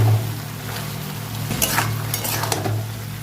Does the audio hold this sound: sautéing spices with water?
yes